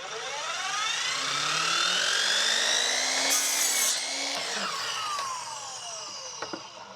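A budget miter saw spins up and cuts through a piece of maple, a loud whining motor with a rising and falling pitch and a gritty rasp as the blade bites, then winds down.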